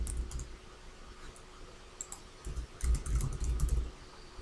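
Keys clatter on a computer keyboard while text is entered into a PowerPoint shape, a sparse run of clicks that thickens into a dense, fairly close burst of rapid typing toward the end.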